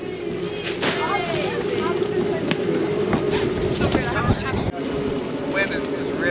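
Strong wind buffeting a yacht at anchor, a steady loud roar of microphone gusts throughout, with people talking over it.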